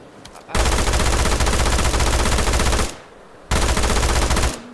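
An AKM rifle in the video game PUBG Mobile fires two long, loud, rapid automatic bursts, the first about two seconds and the second about one second, with a short silence between them and no talking.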